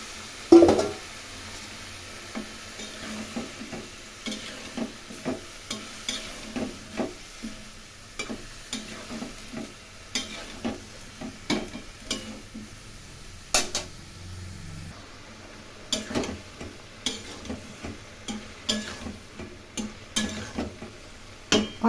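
Cauliflower florets are fried and stirred in a pan with a splash of water for cauliflower curry. Quiet, repeated spatula scrapes and clinks come at an uneven rhythm over a soft, low sizzle.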